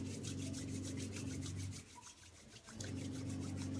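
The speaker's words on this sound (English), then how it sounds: "we're going to rub our hands together" Two hands are rubbed briskly together during a Kundalini yoga kriya, giving a close, steady swishing friction. It pauses briefly around the middle and then resumes, with a low hum underneath and no talking.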